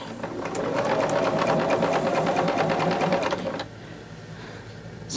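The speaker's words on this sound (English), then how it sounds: "So now we just sew each of our rows together." A sewing machine stitches quilt rows together in a steady, fast mechanical whir with a rapid needle rhythm, running loud and close for several seconds before stopping, leaving faint room noise.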